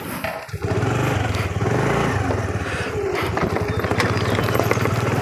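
A jeep grinds along a rough, badly damaged road through forest where elephants roam, its engine rumbling loud and close with rapid bumping and rattling throughout.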